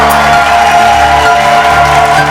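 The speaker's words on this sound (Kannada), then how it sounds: "ಬನ್ನಿ ಜೋರ ಚಪ್ಪಾಳೆ ಅವ್ರಿಗೆ" The studio audience of the Kannada reality show Kiladi Kutumba applauds and cheers: loud, continuous crowd clapping and whooping over a steady tonal backing throughout.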